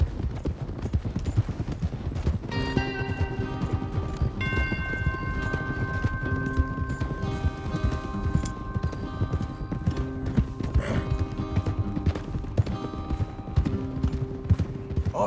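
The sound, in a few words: horses galloping in the video game Red Dead Redemption 2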